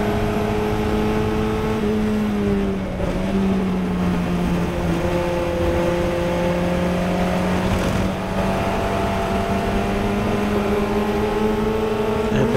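A Formula Ford race car at Watkins Glen runs at full throttle from the cockpit, its engine droning loud and steady with a rising tonal whine, briefly dipping and climbing again over a constant rush of wind and road noise.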